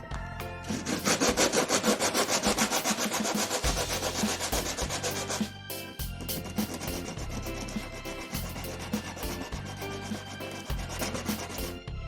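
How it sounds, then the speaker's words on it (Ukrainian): Steady rhythmic rasping of sandpaper rubbing the sides, edges and corners of small wooden candleholder blanks, close and continuous, with brief pauses between strokes and no talking. "Беремо шліфувальний папір і обережно шліфуємо всі сторони заготовки, а також ребра та кути."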